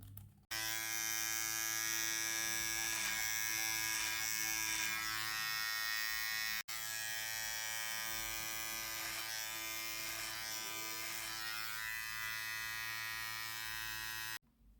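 A Silvercrest cordless hair and beard trimmer buzzes continuously up close, a steady electric whine that cuts out briefly for a moment midway, then resumes until it switches off near the end.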